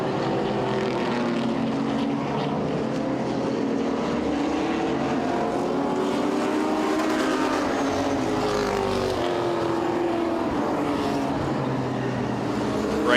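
Vintage modified race cars at Owosso Speedway, with a continuous dense engine roar as several cars howl around the track, their pitches rising and falling as they pass.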